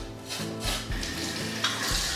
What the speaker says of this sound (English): Mix it up real quick.